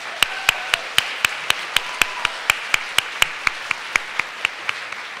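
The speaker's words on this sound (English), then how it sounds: "Let's give a round of applause for these students and everyone here to support them tonight" Applause at a school concert honoring students, heard as a steady, evenly spaced series of crisp single claps, roughly four per second, over a faint background of crowd noise.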